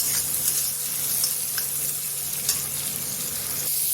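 Onions fry in hot oil in a pan, giving a continuous, close sizzling hiss with light crackles throughout and no talk.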